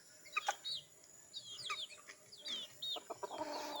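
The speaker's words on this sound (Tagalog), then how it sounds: "Ang matapang na manok." Chickens cluck and chirp in short bursts against a quiet outdoor background, fairly close, with a few sharp calls.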